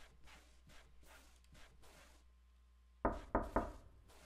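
Three heavy knocks bang against a door in quick succession, loud and close after a stretch of quieter muffled thumps.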